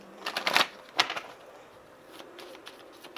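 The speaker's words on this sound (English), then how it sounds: "One more shuffle." Tarot cards being shuffled by hand, heard as a few brisk, close riffling bursts of papery clicks with quiet gaps between them and no talking.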